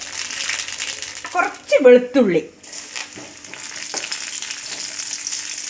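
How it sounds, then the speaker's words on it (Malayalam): Mustard seeds dropped into hot oil in a cheenachatti (Kerala wok) crackle and sizzle steadily, with a short rattle as they hit the pan and a voice briefly speaking over it. "ചീനച്ചട്ടിയിൽ എണ്ണ ചൂടായിട്ടുണ്ട്. നമ്മൾക്ക് ഇതിലേക്ക് കുറച്ച് കടുക് ഇട്ട് കൊടുക്കാം."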